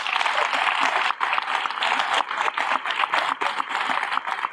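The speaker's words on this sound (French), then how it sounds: "je vous demande de l'applaudir" A political rally audience claps for a campaign team member, dense uneven applause with rhythmic bursts and brief dips, close and loud, with no voices over it.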